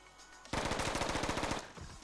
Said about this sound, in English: I used most of my bullets.